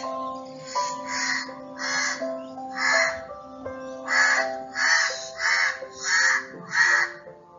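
Crows perched in a tree caw repeatedly in steady, evenly spaced bursts, loud and near, with no talking.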